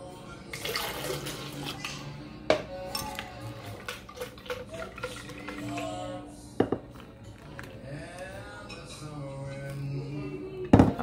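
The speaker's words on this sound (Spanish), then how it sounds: "Y aquí le voy a echar un poquito de agua para enjuagarlo y echárselo acá." Water is poured into a blender jar in a home kitchen to rinse it out, a close splashing pour with a few clinks of utensils and no talking.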